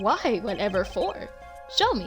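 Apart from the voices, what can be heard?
None of the usual background noises is heard.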